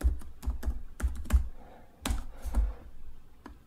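Quick bursts of clicky keystrokes on a computer keyboard naming a new folder, close and dry, in two short runs separated by a brief pause, then a final single tap.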